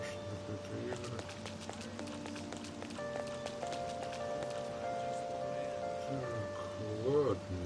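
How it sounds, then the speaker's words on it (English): Steady rain falls in the video game Persona 5 Royal as a soft, continuous patter. Quiet music tones and a faint voice sit under it. "this rain is so annoying"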